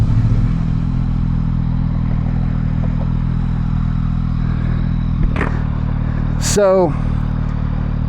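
A Yamaha XSR 900 motorcycle cruising down the highway, its engine a steady low drone with wind rush and a brief rising whine near the end, while a rider talks over it.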